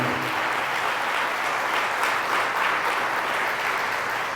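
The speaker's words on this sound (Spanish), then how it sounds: "Fuertes aplausos a Jesús por su amor y su misericordia." Steady, dense applause from a church congregation at a Catholic preaching event, a continuous even roar of many hands clapping at close range, loud throughout.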